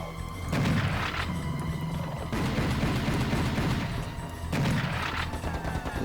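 Repeated gunfire in the video game Serious Sam, loud dense bursts of shots with booming low thuds, coming in several sustained volleys with short gaps, no talking over it.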